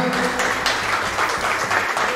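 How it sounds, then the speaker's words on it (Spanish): At an awards ceremony for a 2022 tournament, the crowd applauds the overall champion, a brief burst of dense clapping at fairly close range, with a faint voice underneath. "Un aplauso, por favor, que se oiga el campeón absoluto de PCA"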